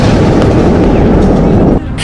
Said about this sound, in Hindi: man portable rocket launcher